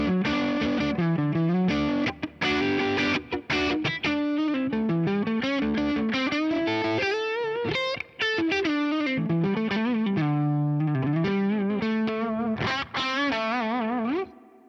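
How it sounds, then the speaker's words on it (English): Hamer Standard electric guitar on its neck pickup through a Vox amp at edge of breakup: a lightly gritty, warm melodic line with bending single notes and chords, steady and upfront, with no voices over it. "this has quite a nice kind of rootsy clean sound on the neck pickup"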